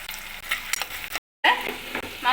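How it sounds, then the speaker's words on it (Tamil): Small shallots with curry leaves frying in oil in a pan give a steady, close sizzle, with a brief full silence in the middle before the crackle resumes. "வெங்காயம் வதங்குது நல்லா"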